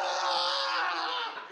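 Actors on a film set screaming together on command while filming a battle scene, a loud sustained chorus of raw shouting voices that tapers off near the end.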